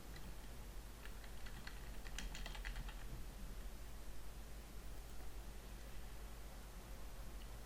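Fingers tap a computer keyboard to enter a web address, producing a brief run of faint clicks early on against a steady background hiss.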